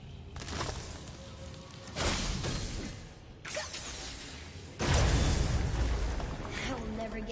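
Objects shatter in the video game God of War as a series of sharp crashing bursts, roughly four loud impacts spaced a second or two apart, with moderate level and background game sounds between.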